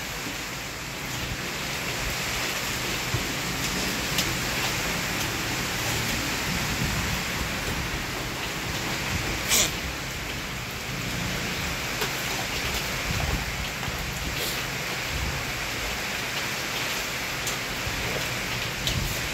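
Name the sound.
heavy rain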